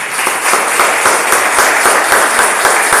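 A church congregation applauds together, steady dense clapping filling the room at full volume and holding evenly without pause, with no voices rising above it.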